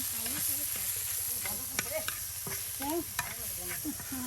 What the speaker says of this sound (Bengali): এখন এটাকে বস্তা করা হচ্ছে মরিচের সাথে পেঁয়াজের সাথে একসাথে